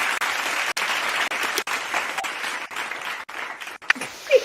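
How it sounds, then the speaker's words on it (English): Loud, steady applause fills the space in a continuous wash of clapping with a few brief dropouts, and a short voice breaks in right at the end. "Round of applause for y'all as well."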